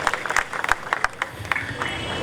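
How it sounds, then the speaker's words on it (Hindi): A modest round of applause for Rohit Shetty at a Sooryavanshi event, scattered claps heard at moderate distance over a low murmur of voices. "जोरदार तालियों की गड़गड़ाहट से मैं रोहित जी से रिक्वेस्ट करूँगा कि 2 शब्द कहें।"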